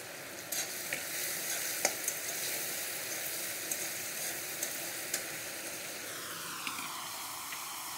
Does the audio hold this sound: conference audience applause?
no